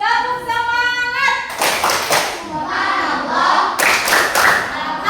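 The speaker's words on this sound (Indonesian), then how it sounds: "Yuk, kita mau tepuk semangat dulu sebelum kita tutup dengan doa." A school class does a rhythmic spirit clap together in sharp, patterned bursts of hand claps, close and loud, interleaved with children's voices chanting along.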